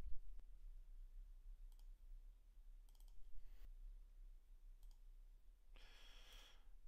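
A computer mouse clicks checkboxes in PCMTEC tuning software while E85 tables are selected. The clicks are faint, sparse and dry against a quiet room hum, ending in a slightly louder, brief rustle.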